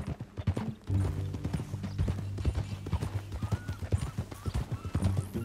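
Horse hooves clip-clop in a steady rhythmic gait in Red Dead Redemption 2, close and clear over a low droning background, with no voices.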